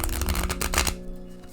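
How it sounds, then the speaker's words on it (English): A full 78-card tarot deck is riffled and shuffled by hand, a quick dense burst of papery flutter and slaps that stops abruptly, leaving quiet room tone. "We gotta shuffle with a full deck."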